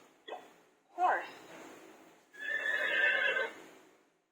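A horse neigh plays from a children's early education card device, a short whinny preceded by a brief spoken word and followed by a longer, bright neigh, all close and clear.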